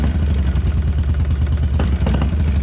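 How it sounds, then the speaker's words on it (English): A 2007 Harley-Davidson Sportster 1200 with a dropping cylinder and power loss runs steadily in a close, loud, lumpy idle, its engine note rising briefly near the end as the injector is fired by hand. "when you hear that motor kick up like that, that's because we fired the injector by hand"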